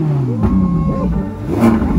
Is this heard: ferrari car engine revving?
yes